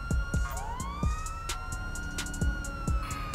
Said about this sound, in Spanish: A ver, apago la sirena, me bajo.